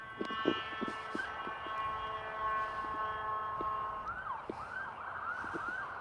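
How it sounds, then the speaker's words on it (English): An ambulance siren wails along Highway 101 near an off-ramp, steady harmonic tones giving way to rising and falling yelps, moderately loud over constant traffic rumble with no talk. "the ambulance just got off of 101 South, and maybe it's turning around and going to 101 North."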